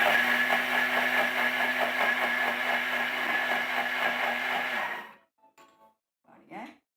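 A Thermomix blitzes a cookies and cream marshmallow mixture at high speed, a steady whirring motor drone for about five seconds that cuts off abruptly, followed by faint scraping and a brief voice.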